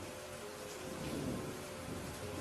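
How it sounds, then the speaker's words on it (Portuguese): Thunderstorm with steady heavy rain, a continuous dense wash of rainfall with a low rolling rumble of thunder swelling midway, no voices. "os clarões dos relâmpagos e os barulhos dos trovões"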